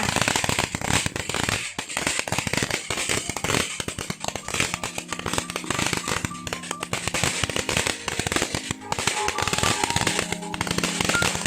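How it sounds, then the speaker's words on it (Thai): Strings of firecrackers tied up at a Thai temple, Wat Phra Borommathat in Ban Tak, burst in a dense, loud, continuous crackle of rapid pops for the whole stretch, with no talk over it. "มาผูกประทัดที่นี่ และนี่ได้น้องชายมาจุดให้ค่ะ"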